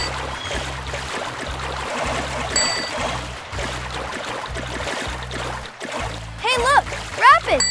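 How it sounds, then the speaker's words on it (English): Rushing river rapids in a children's Dinosaur Train game, a steady churning splash under continuous music with rhythmic low notes, and chirpy sound effects near the end. "Hey look! Rapids!"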